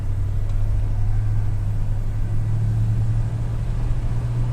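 A 1969 Ford LTD cruising down a street, its engine a steady low rumble heard from inside the cabin, smooth and unbroken.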